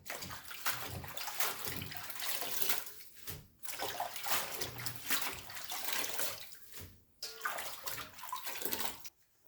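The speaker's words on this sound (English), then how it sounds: "rinse the Chinese broccoli here" Running water rinses Chinese broccoli at a sink for the Thai stir-fried noodle dish pad see ew, a steady close splashing stream with a few short breaks as the greens are moved under the flow.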